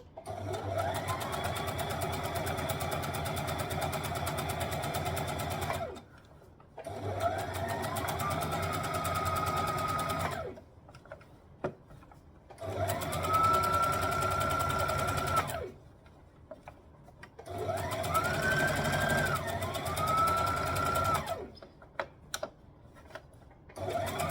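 A sewing machine stitching a dress with a bulky garment in its throat, running in four long bursts of steady whirring separated by short pauses, close and loud.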